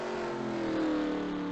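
A race car engine in a NASCAR video game at Twin Ring Motegi, revving hard in a steady, sustained drone with a slowly shifting pitch, loud and close with no talking over it.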